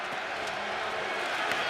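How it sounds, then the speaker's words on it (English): A football stadium crowd at an Arlington Renegades versus DC Defenders game roars steadily on a third down, a broad continuous wash of cheering with no breaks, with an announcer's voice faintly mixed in. "Crowd getting into it on 3rd and 5 for Arlington."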